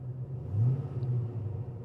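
A TVR Chimaera's engine idles with a steady, deep low rumble close by, swelling briefly in the middle as the revs rise slightly, with no talking over it.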